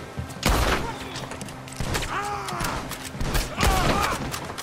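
Gunfire from the Murphy brothers in the Western game Red Dead Redemption II: loud bursts and thumps in three clusters over a busy game soundscape, with a voice in the mix.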